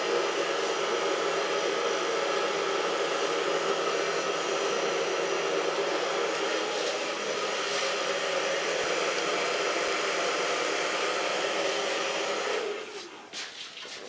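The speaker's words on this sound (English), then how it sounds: "So far blow drying" A hair dryer blowing on hair during a Mohawk styling makeover gives a steady, loud airy whoosh that runs unbroken for most of the stretch, then cuts off near the end.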